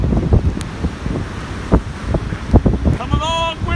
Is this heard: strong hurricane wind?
yes